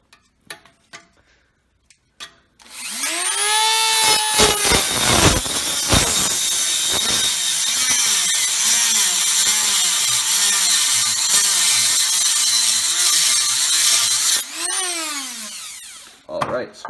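A power tool cuts through a steel wheel bearing inner race with a loud, sustained whining grind and a wavering pitch. A few clicks come before it, and the cut stops abruptly near the end.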